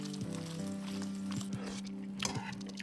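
Cooked pasta tossed in a pan, a soft continuous sizzle broken by a few scraping shuffles and one louder swish near the end, with a low steady hum underneath.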